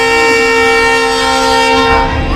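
A WDP4D diesel locomotive sounds its horn at a station platform, one loud, steady, sustained blast held for the whole stretch with no break.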